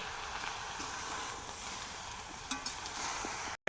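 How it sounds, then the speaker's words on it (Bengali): Spiced vegetables are stirred in a hot pan with cumin powder, turmeric and salt, giving a steady oily sizzle and scraping that runs evenly close up, then cuts off briefly at the very end. "এবারে সব একসঙ্গে আমি একটু নেড়ে নিচ্ছি"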